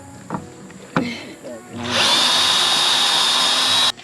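A power drill unscrewing a deck during weekend labour, whirring loudly and steadily for about two seconds after a few soft knocks and handling sounds, then cutting off abruptly.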